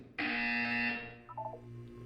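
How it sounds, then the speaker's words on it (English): A single loud electronic buzzer in the video game Portal 2 sounds for about a second, followed by fainter tonal beeps as it fades. "When you hear the buzzer, look up at the ceiling."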